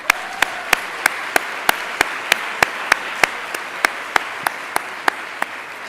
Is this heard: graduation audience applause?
yes